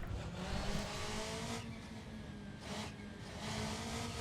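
Rally car in Assetto Corsa on a short tarmac stage, engine humming and revving with intermittent tyre squeal as it sweeps through corners, moderately quiet and continuous with no speech.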